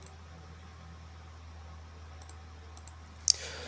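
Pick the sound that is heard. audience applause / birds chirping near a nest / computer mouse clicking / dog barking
computer mouse clicking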